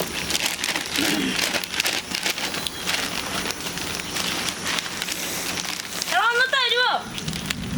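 Rain falls outside a house with a steady, fairly faint patter, and a brief high voice or chirp breaks through near the end.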